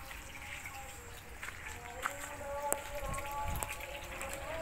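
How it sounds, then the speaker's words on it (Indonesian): Water is poured onto dried-out flowers, a soft trickle and splash with a few faint clinks, quiet and close against a light background hum. "Siram air dulu ya."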